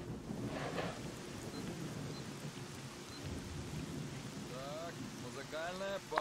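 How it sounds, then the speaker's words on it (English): Steady rain and rolling thunder fill an outdoor scene in the video game S.T.A.L.K.E.R.: Shadow of Chernobyl, a constant wash of downpour with low rumbles, and a voice briefly cuts in near the end. "What a lovely rainy day it is."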